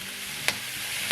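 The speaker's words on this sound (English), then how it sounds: "I'm here sizzling it real good" Ground beef sizzles steadily in a hot frying pan while taco filling is cooked, a constant broadband hiss with a sharp stir or scrape midway and another at the end.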